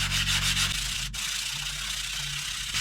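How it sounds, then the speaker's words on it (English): Steady sanding of a fiberglass dirt bike side panel, rubbing continuously to shape a slight dome into it, close and fairly loud with no talking. "I'm just going to sand a little bit of a dome"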